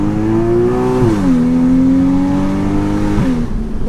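A Porsche Boxster 2.7 with 265 horsepower accelerating, its engine note loud and close as the pitch climbs, dips at gear changes and rises again, with no talk over it.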